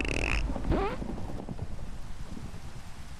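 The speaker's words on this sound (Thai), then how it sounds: "ฟ้าผ่าค่ะ" A lightning strike in the Minecraft modpack Crop Bloc: a brief sharp crack, then a low, rolling thunder rumble that lingers for a few seconds.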